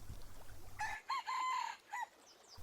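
A rooster crows in a long drawn-out call at moderate distance, rising after a brief low rumble and fading into quiet at the end, with no voices.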